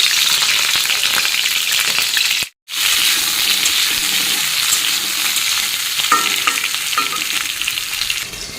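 Fish sizzling steadily as it fries in a pan for a mashed fish dish: a loud, continuous crackle that stops for a brief moment partway through and then carries on.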